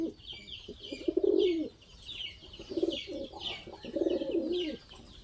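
Two male Lakkha fantail pigeons coo in repeated throaty, rolling bursts, close by, with short pauses between the phrases and faint rustling in the background.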